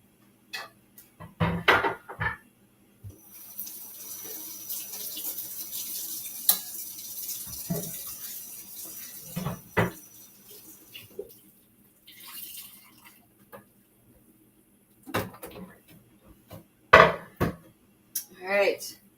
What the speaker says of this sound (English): I am going to take the minced garlic and put it right into the soup pot